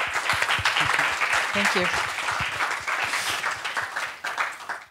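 An audience applauds warmly to welcome a guest on a live podcast stage, dense clapping that stays steady and close, with a brief spoken thanks over it.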